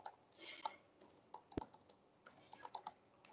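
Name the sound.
typing content into a Python file on a computer keyboard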